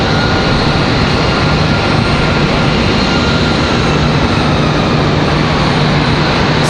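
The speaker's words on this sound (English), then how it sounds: "This A321 should get off the runway with plenty enough time." Airbus A321 taking off from the runway at Raleigh-Durham International, a loud, steady broadband jet roar holding evenly throughout without talk.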